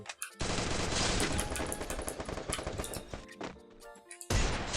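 Video game automatic gunfire, played on the BlueStacks Android emulator, comes through as loud, dense bursts of rapid shots. It runs almost continuously, then breaks off briefly before another burst near the end.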